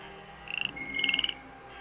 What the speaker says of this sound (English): make the frog squeak again?